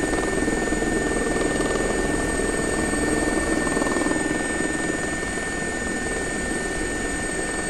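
A steady helicopter rotor drone with engine whine from an air ambulance helicopter in a flight simulator game holds constant throughout, loud and close, with no talking.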